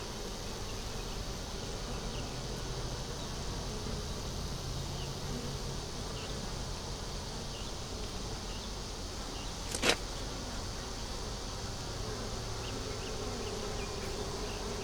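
Honey bees at an opened hive during a check after a queen's mating flight, a dense, steady close buzzing drone throughout with one brief sharp click partway, no talking.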